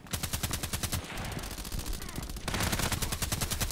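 Rapid assault rifle fire in the shooter game Contract Wars, a dense stream of evenly spaced shots at an extreme fire rate, loud and close, breaking into a short burst of mixed noise before the steady firing resumes.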